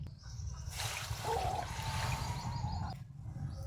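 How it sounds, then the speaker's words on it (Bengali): Two cups of water poured into a pan on a stove, a steady close trickling pour that runs for about two seconds over a low rumbling background before it stops. "এখানে আমি দু কাপ জল দিয়ে দিচ্ছি"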